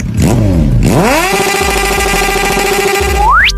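A cartoon-style Dino motorcycle engine revs up from idle into a sustained high drone, then whines sharply upward at the end, loud and close.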